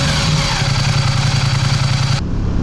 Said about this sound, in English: I love the stock exhaust on here. It's not, it has a nice little rumble to it.